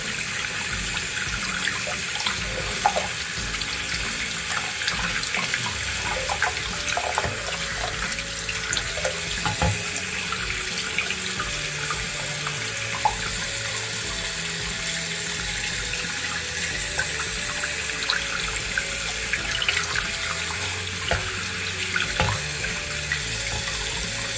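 A continuous stream of running water splashes steadily onto a Samsung Galaxy Z Fold 5 phone screen during a water test, close and fairly loud, with no voices.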